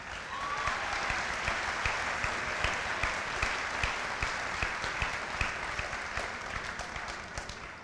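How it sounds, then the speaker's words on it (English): A middle school promotion ceremony audience applauds steadily, a dense wash of many hands clapping at even volume from start to finish. "You can clap now."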